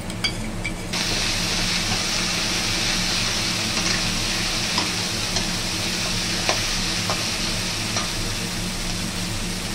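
Ginger garlic paste frying with already-fried potatoes and onions in a pan for a jackfruit-seed vegetable dish makes an even, continuous hiss of hot oil, with faint clicks of stirring scattered throughout.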